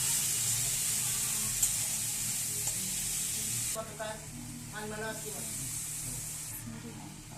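Spice paste for mung dal fries in hot oil, giving a steady close sizzle and hiss with a few soft stirring scrapes. A voice is heard briefly partway through.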